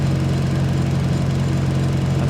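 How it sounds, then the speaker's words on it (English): A pipeline welding machine idles at a steady, continuous engine drone with a strong low hum, close and unbroken throughout, with no voices. "calmed by the welding machine idling"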